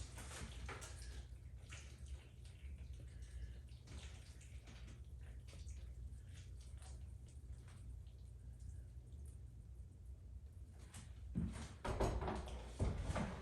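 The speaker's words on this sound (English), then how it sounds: "So we're gonna add some more water just for fun." Water pours and splashes steadily at low volume, a continuous running wash with a few louder gurgles and thuds near the end.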